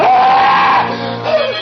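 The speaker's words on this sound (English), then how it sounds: "The scream came at last" A man lets out a long, loud scream in an old-time horror radio drama, close and drawn out, then trailing off into a quieter strained cry.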